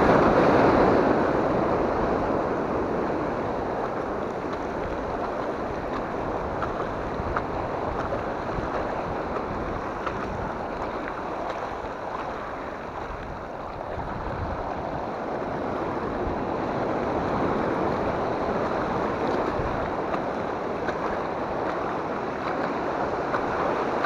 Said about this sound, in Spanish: Yo pedaleo en el agua.